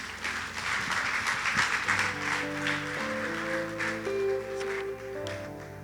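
A church congregation applauds, with dense clapping that continues for several seconds while sustained organ or keyboard tones come in beneath it.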